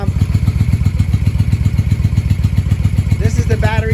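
A 1995 Honda Shadow VLX VT600CD V-twin with a weak charging system idles close by in a loud, steady lumpy rhythm, with a brief high whine near the end as it is revved slightly.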